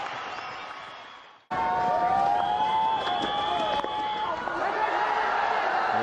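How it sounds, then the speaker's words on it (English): A crowd cheers in a cricket stadium during a Pakistan versus India match, a dense, steady roar swelling after a brief dip, with a commentator talking over it. "So big cheer from the crowd."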